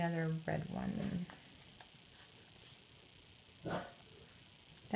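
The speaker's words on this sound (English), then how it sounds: "That's my dog sneezing." A small dog sneezes indoors in a couple of short snorting bursts, quiet and close, with a person talking at the start.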